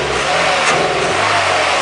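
A Toyota Echo engine, up close and loud, revs under acceleration and stumbles with a hesitation partway through. The steady roar carries no speech.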